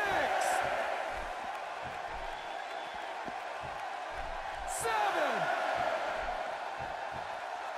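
A wrestling crowd in the video game WWE 2K16 keeps up a steady distant roar that swells slightly at times. It sits under a commentator who talks over it.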